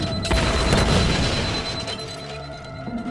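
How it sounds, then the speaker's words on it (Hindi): An explosion rips through a jail in an audio drama. A heavy, crashing boom hits early and rolls into a broad rumbling roar, then slowly fades. "रोहिणी जेल के अंदर हुए धमाके ने उन दोनों को चौंका दिया।"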